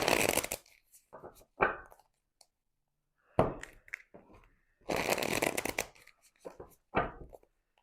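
Cards being shuffled in a few quick riffling bursts with pauses between, close and fairly quiet.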